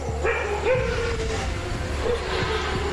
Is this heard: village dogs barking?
yes